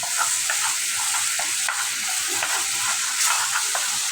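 Water poured into a pan of fish, potato and pointed gourd curry sets off a steady, close hiss of sizzling, broken by small scraping stir clicks throughout, with no voices.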